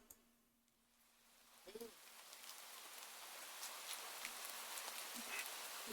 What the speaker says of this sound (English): in the middle of your walk, it starts to rain